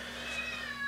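A domestic cat meows and yowls in a drawn-out, wavering cry from the background, faint and somewhat distant over a low steady hum, with no talking.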